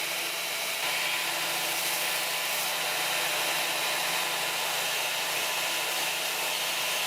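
A grinder works the flat end of a 6mm stainless steel rod, making a steady, bright, hissing grind that runs unbroken and close for the whole stretch, with no voices.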